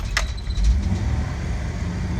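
An old Toyota Land Cruiser engine fires up, with a little throttle held, and settles into a steady, deep low rumble that runs throughout, close by.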